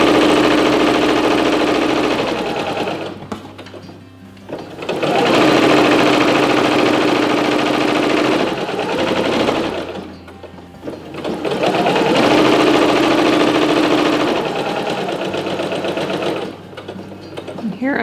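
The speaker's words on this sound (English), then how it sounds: "And then I just continue to stitch all the way down until I've reached the end." A sewing machine stitching the hem of a linen tea towel, loud close whirring runs of several seconds each, stopping briefly twice before starting again.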